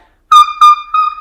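A voice mimics an alpine marmot's alarm call with three quick, piercing, high whistles in rapid succession, loud and close.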